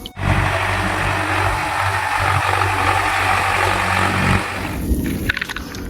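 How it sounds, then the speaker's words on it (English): A tractor engine running with a loud, steady rumbling drone and a low hum that stops after about four seconds, leaving quieter clatter. "Tractor."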